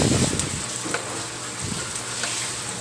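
White onion sautéing in a hot pan for a noodle soup, giving a steady sizzling fry with occasional stirring scrapes and crackles, close and continuous.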